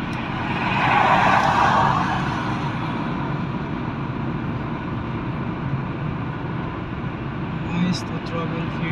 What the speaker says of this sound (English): To travel here at night in traffic.